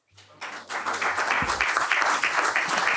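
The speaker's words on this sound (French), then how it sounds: "avec à sa tête M. Pierre-Yves Ettelin, que je vous demande d'applaudir." An audience breaks into applause, steady clapping from many hands building quickly and holding at a moderate level.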